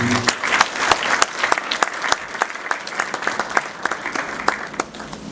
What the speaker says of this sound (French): pour applaudir, je vous prie